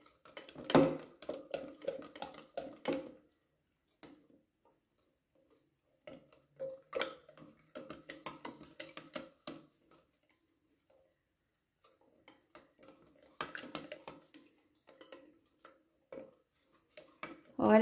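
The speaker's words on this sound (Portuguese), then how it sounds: "Tem que mexer bem." A spoon stirs a homemade thickener mixture for liquid soap, with soft clinks and scrapes against the container coming in short, irregular bursts separated by quiet pauses.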